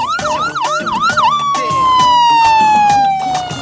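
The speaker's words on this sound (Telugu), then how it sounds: "అంబులెన్స్ వచ్చేసిందయ్యా. అంబులెన్స్ వచ్చింది." An ambulance siren blares loud and near, cycling through a few quick rising-and-falling wails before settling into a long, steady tone that slowly dips in pitch, in an action thriller film scene.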